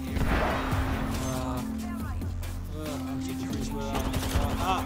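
Gunfire in an Apex Legends ranked match, rapid bursts of shots crackling under a talking voice and game music, fairly close but somewhat masked.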